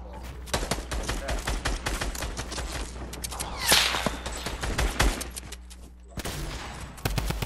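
Gunshots in a video game, rapid cracking shots fired close and loud in a dense, irregular stream over a steady low hum, pausing briefly before a final burst.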